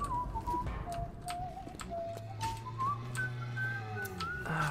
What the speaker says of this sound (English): Fucking stop whistling. Stop being so jolly.